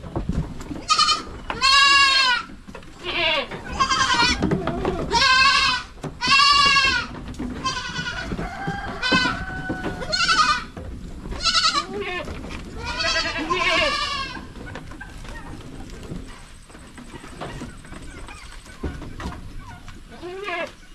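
Goats and their young kids bleat on a farm, repeated wavering cries from several animals close by, with quieter stretches between them and occasional low voices in the background.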